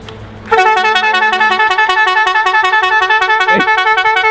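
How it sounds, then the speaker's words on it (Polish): An extremely loud 170 dB vehicle horn under test, sounding after a brief moment of quiet as one harsh, sustained, piercing blare that continues to the end. "po prostu zmniejszymy moc naszej trąbki"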